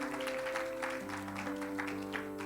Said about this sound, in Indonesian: Saudara harusnya kasih tepuk tangan buat Tuhan yang luar biasa.